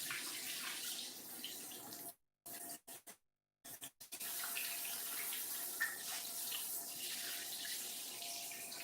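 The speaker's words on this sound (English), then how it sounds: "Now I'm going to rinse my hands off." Running kitchen tap water splashes as hands are rinsed under it after making biscuit cinnamon rolls, a steady close hiss broken by brief silent gaps near the middle before the flow resumes, no talking.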